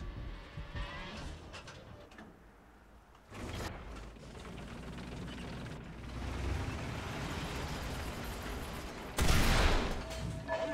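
Tank cannon fire in the War Thunder combat game: heavy, booming blasts over a steady mechanical rumble, with a loud, close shot near the end and an earlier jolt.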